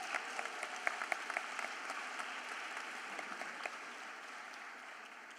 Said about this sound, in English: put a clap for the families again